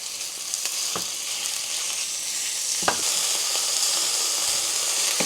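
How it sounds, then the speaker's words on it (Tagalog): Onion, garlic and minced chicken sizzle in a little oil in a pan, a steady close frying hiss broken by a few sharp stirring scrapes. "maglalagay na akong kaunting mantika, sibuyas, bawang, minced chicken"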